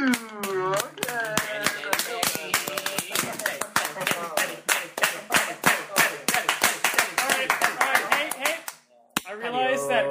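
A group of people clapping together in a fast, continuous burst of sharp hand claps, loud and close, with cheering voices mixed in, then a brief pause before more clapping and voices.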